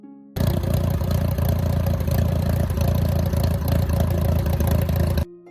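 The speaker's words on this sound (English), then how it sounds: "the sound of a tractor echoing from afar" A Moline Universal Model D tractor from around 1917 to 1923 runs steadily and fairly loudly with a low, clattering engine drone that holds constant for about five seconds, with no voices.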